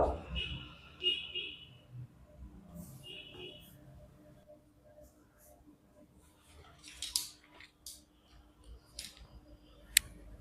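Scissors snip through folded fabric to cut out an umbrella top, a few crisp close cuts spread over quiet stretches of soft handling noise.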